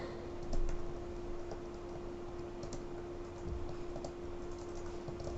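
Computer keyboard typing during a coding session, a soft, steady patter of light key clicks at low volume over a quiet background hum.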